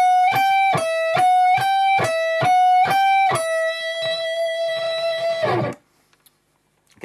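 Distorted electric guitar slowly picks out a minor-scale shred lick as a run of separate notes, each attack clear and evenly spaced, then holds a final note that rings before cutting off.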